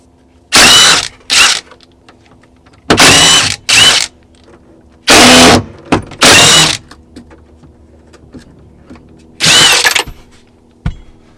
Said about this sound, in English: using an impact wrench, we're going to go ahead and remove these 13mm bolts from the inside